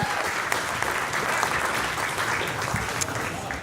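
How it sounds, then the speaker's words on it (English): An audience at a scholarship and awards ceremony claps in steady, dense applause that lasts the whole stretch, loud and close with no pause. "Let's give him a big round of applause."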